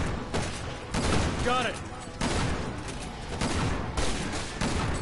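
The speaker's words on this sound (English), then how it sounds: "I'm doing this with a shotgun" Shotgun blasts in Resident Evil 6 Leon campaign gameplay, several heavy booming shots spread across a few seconds amid combat noise, with a player's voice talking over them.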